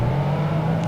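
A Ferrari race car engine in Project Gotham Racing 2, Grand Touring series, holds a loud, steady high-revving drone close up, constant and unbroken for the whole moment.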